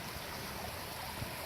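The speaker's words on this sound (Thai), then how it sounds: "น้ำแบบลำธารไหลเย็นมากๆเลย" A clear stream flows near Ekkarat waterfall on the Thai border at Umphang, Tak, giving a steady, even wash of running water that stays constant and fairly soft throughout.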